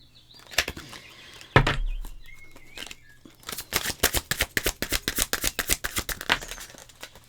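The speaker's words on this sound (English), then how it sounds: "Let me get another oracle card" Oracle cards are shuffled by hand, a few loose riffles and taps first, then a fast run of crisp rhythmic flicks and snaps close by, with no voices.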